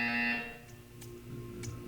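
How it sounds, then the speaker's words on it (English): A sustained electronic buzzer tone from the Portal 2 video game sounds loud and steady for about half a second, then cuts off, leaving faint background hum with a few soft clicks. "You will hear a buzzer."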